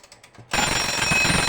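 An old grandfather's mantel clock alarm bell bursts into loud, continuous ringing after a brief quiet moment, the bright metallic clatter filling the room without pause.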